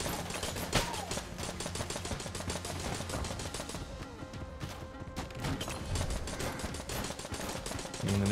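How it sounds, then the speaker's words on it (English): A nail gun in Enter the Gungeon fires in a rapid, continuous stream of sharp clicking shots that run throughout, layered over dense game noise. "Want me to use a nail gun?"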